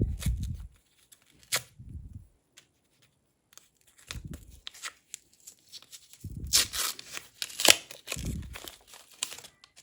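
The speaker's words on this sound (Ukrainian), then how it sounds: "Тепер відкриваємо цей пакет." Crinkling and tearing of a paper packet with Minecraft-themed contents being opened, heard as short intermittent rustles and crumples in bursts, close and fairly quiet, with brief pauses between.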